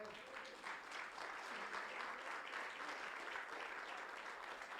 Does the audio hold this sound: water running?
no